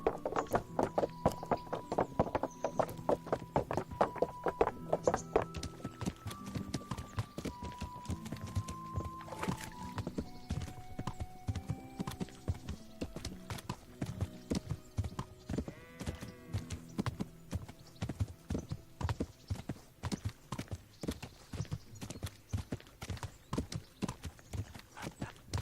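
Horse hooves clip-clopping steadily in the medieval video game Kingdom Come: Deliverance, a regular rhythmic gait that continues throughout alongside a soft musical score, with no talking.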